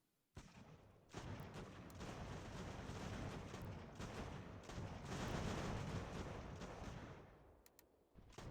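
Sustained artillery fire from the strategy game Ultimate General: American Revolution, a dense rumbling volley of cannon blasts that starts abruptly and rolls on steadily before thinning out near the end, with no talk.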